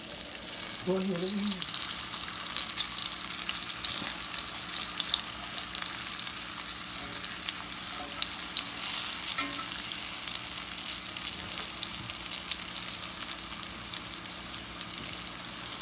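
Breaded green tomatoes fry in a pan as Southern fried green tomatoes, giving a steady, close hiss of hot oil that holds evenly throughout, with a faint brief voice near the start.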